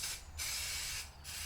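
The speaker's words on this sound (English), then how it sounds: "it's a contact adhesive in a spray, an aerosol" A can of contact adhesive spray is sprayed in two loud, close hissing bursts, each separated by a brief pause.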